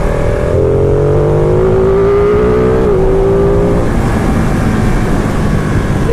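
A 2018 Ducati Panigale 959 Corse motorcycle engine revs loud and steady, its pitch climbing, dipping briefly midway, then holding as a continuous close-up roar with no one talking.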